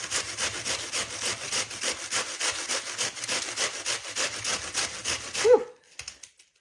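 Cabbage being grated for slaw, rapid rhythmic rasping strokes close up, steady and loud for about five seconds, then a few scattered softer scrapes at the end.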